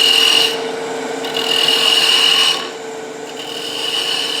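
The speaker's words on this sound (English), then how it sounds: "we'll start turning the sphere" Wood turned into a sphere on a lathe, a close, loud rasping scrape in pulses as the tool rubs the spinning wood over a constant motor hum, with no voices.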